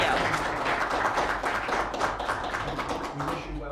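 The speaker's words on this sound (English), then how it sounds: "give a round of applause" Moderate audience applause from a crowd at a medical education lecture, a steady patter of many hands clapping throughout, fairly even in level with faint voices mixed in.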